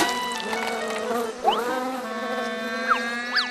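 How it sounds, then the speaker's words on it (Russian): Cartoon swarm of bees buzzing steadily, a sustained whining drone with rising swoops as insects dart past, layered under animated background sound. "О нет, это же пчелы!"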